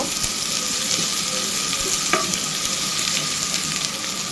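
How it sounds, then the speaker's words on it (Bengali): Onions fry in oil for a home-cooked vegetable curry, giving a steady, close sizzle with a brief spoon scrape partway through and no talking. "তারপর আমি পেঁয়াজ দিয়ে দিব একটু ভেজে নিব"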